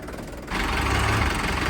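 A Sonalika 750 tractor engine idles with a steady low rumble after a quieter opening half second, holding at a constant level with no speech.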